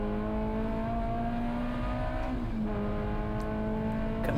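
A race car laps the Road America circuit, its engine holding a loud, steady drone close by with a brief dip in pitch midway as it shifts or lifts through a corner.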